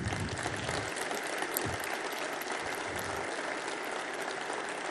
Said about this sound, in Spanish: los medios van a editar este aplauso y seguramente van a poner algo que sea un abucheo